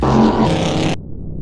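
A powerful big-block car engine roars loudly at high revs, then abruptly drops to a low, rough idle rumble.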